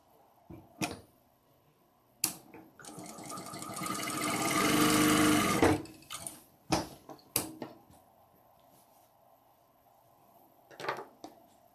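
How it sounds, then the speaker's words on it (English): A new embroidery machine hums through one sustained stitching run lasting a few seconds, rising and then cutting off, with scattered clicks and knocks of handling before and after. "She has a new embroidery machine."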